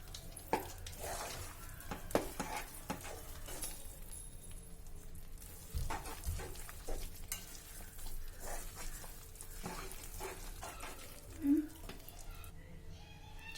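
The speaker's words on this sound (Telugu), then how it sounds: "ఎప్పుడైతే నెయ్యిని శనగపిండి వదిలేస్తుందో అప్పటి వరకు నెయ్యి వేసుకుంటూ కలుపుకుంటూ" A mixture of gram flour and ghee for Mysore pak is stirred in a hot pan, giving a soft, continuous sizzle with occasional scraping taps of the spoon, under a speaking voice.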